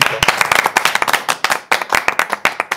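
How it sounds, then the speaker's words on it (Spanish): Audience clapping at a cultural literary event, a few people applauding nearby in sharp, distinct, uneven claps that keep a loose rhythm throughout. "Un aplauso."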